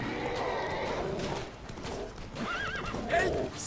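A horse neighs and its hooves clip-clop during horseback fighting in The Witcher 3: Blood and Wine, with a loud whinny rising near the end over steady hoofbeats.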